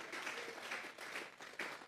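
A church congregation applauds during a Sunday service, a faint, steady patter of many hands clapping in short waves across the room, without any talk over it.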